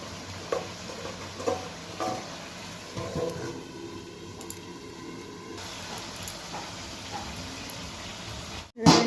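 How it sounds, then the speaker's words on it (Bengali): Desi rooster meat fries with spices in a pan, a steady soft sizzle with intermittent scraping and stirring knocks throughout, ending on a sudden louder clatter. "আরও 2 মিনিট এটাকে একটু কষিয়ে নেব।"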